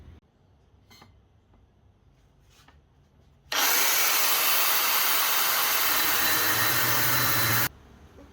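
A power cutting tool slices two small metal test pieces for welding, roaring with a harsh, loud grinding rush for about four seconds after quiet shop shuffling, then cutting off abruptly.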